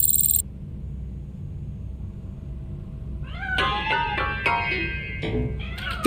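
A cat in the video game Robocop: Rogue City lets out a few drawn-out meows and cries over a low ambient game hum, fairly close and clear, with short pauses between calls.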